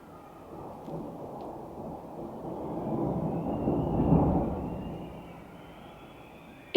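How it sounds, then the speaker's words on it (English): Thunder during a changeable storm with lightning and hail, a long low rumble swelling to a peak and slowly fading, distant and alone without talk. "now it's thundering"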